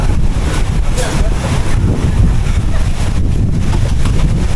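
Strong wind buffets the microphone outdoors, a loud, continuous rumbling roar that fills the whole stretch without letting up.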